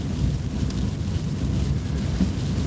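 Heavy rain falls in a steady, dense roar with a low rumbling undertone like distant thunder, loud and continuous throughout, no voices present.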